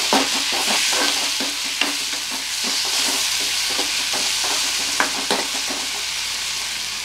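Onion, mustard seed and tomato fry in oil in a pan for a simple onion tomato gojju, a loud constant sizzle close by, with a spoon scraping and stirring in irregular strokes.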